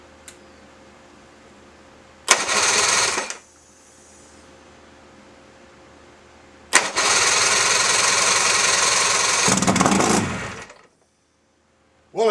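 An engine cranks in two bursts, a short one and then a longer one that runs several seconds before it shuts off, loud and close over a low background hum.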